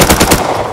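Rapid automatic AK rifle fire in the survival game Rust, a loud, close burst of quick shots under no talk.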